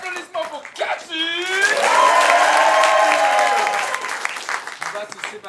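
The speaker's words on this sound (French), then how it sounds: "Est-ce que je peux avoir vos applaudissements pour Cathy?" A Paris improv festival audience claps and cheers for a performer, the applause swelling into a full, steady roar mid-clip and then thinning, with a voice heard over the opening and at the tail.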